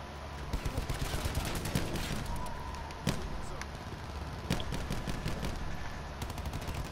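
Gunfire in the Call of Duty: Black Ops 4 video game, a steady stream of rapid shots under a constant noisy game background, with a few sharper, louder reports standing out.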